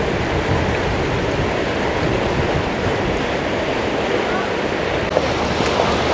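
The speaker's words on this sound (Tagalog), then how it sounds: "Guys, lakas ang alon." Strong ocean waves surge against the rocky Yehliu coast in Taiwan, a dense, steady roar of surf mixed with wind buffeting the microphone, loud and continuous throughout.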